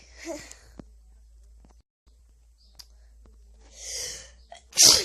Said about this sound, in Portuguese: Espirrei de novo.